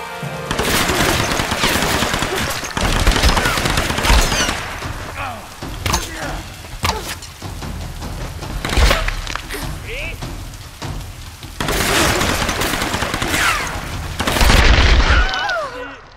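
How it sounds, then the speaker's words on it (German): Gunfire in the PS3 game Tomb Raider, with loud rapid machine-gun bursts, single shots and heavy booms that rattle on almost without pause, in waves that swell and ease. "Okay, wo kommen die Schüsse her?"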